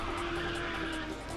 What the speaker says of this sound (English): Nitrous drift.